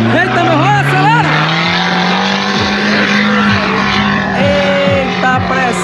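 An off-road vehicle, one of a group including a Trailblazer V6, SW4 V6, Frontier, Tracker, Jimny and F250, revs hard climbing a sand dune, its loud engine note rising steadily while excited voices shout over it.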